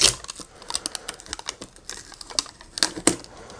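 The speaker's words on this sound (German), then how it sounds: "So, Aufkleber konnte ich abziehen." A sticker peeled off the packaging of a Turtle Beach Recon 320 wired headset gives a series of close, crisp crackles and small tearing snaps, uneven and quiet with sharper pops toward the end.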